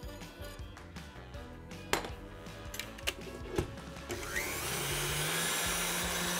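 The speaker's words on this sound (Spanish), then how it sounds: "Y la voy a montar a punto de nieve." Stand mixer whipping cold whipping cream in its bowl, first a few clicks and knocks, then the motor spins up into a steady whirring drone that holds to the end.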